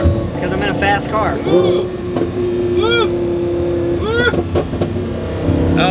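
A supercharged Lamborghini Huracan burbles and gurgles from its exhaust while driving, with deep rumbling and short popping bursts mixed with engine revs, heard from inside the car over loud excited talking.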